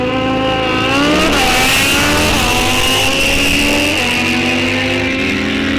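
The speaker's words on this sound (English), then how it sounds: "Lifts the front tire as he shifts into second gear." A Harley motorcycle launches down a drag strip and shifts gears, its loud close engine climbing in pitch, dropping briefly at each shift, then climbing again, with no talking.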